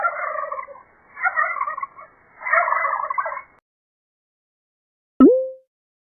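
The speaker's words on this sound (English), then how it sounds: "Turkey." A farmyard turkey gobbles in three loud, rattling bursts over about three and a half seconds, followed by silence and then one short, sharp call near the end.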